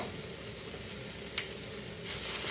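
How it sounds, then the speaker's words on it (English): Garlic and ginger stir-frying in a pan for a beef stir fry give a steady, close sizzle. A brief scrape of stirring cuts through midway, and the frying grows louder near the end. "we'll just stir fry this up first"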